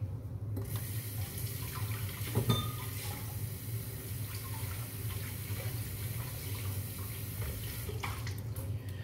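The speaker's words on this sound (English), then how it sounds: "let me go ahead and rinse my hands off right quick." Hands being rinsed under a running kitchen tap while making salmon croquettes, a steady, fairly loud rush of flowing water that runs throughout with a brief splash near the start.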